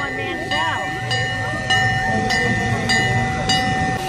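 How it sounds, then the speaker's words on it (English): A train pulls out of an airport station, its wheels clacking in a steady rhythm against a constant high electric whine, close and fairly loud, while people talk over it. "There goes the train."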